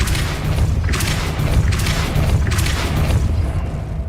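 The Depulso spell goes off in Hogwarts Legacy as a series of dull booming bursts over dense, continuous game noise, loud throughout.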